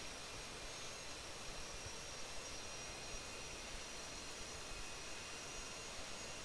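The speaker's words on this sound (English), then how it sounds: "And now I'm slowly parking my plane." An F/A-18C jet in a flight simulator game taxis slowly to park, giving a steady, unbroken engine roar and hiss at even loudness throughout.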